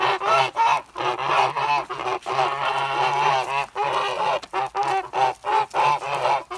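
Kholmogory geese beside a stream give a long run of loud, close honks in repeated bursts separated by short pauses.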